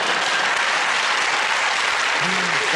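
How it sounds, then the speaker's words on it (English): Studio audience applauds loudly and steadily throughout, a dense wash of clapping that fills the whole stretch without letting up. "Give that round of applause to Chris, Ed and Josh."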